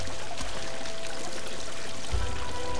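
Water pouring and rising in the video game Unravel, a steady rushing stream that fills the scene, loud and close with no talk over it.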